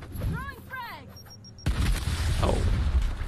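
A grenade blast in the tactical game Gears Tactics hits suddenly after a short spoken line, then rumbles loudly for over a second.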